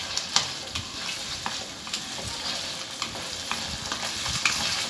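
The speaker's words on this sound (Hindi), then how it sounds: "प्याज और टमाटर ऐड करके इसे भी मैं 2-3 मिनट भून लूँगी" Onion and tomato stir-fried for a Hyderabadi mirchi ka saalan, with a steady close sizzle of frying broken by intermittent scraping taps of a spoon stirring the pan.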